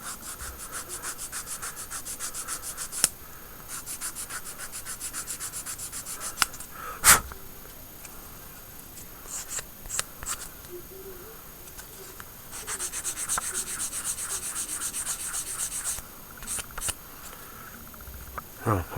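Repeated rubbing strokes of a sanding stick on a small hard plastic part of a 1/35 scale Tiger (P) Elephant tank model, in bursts with pauses, close up, plus a few sharp clicks.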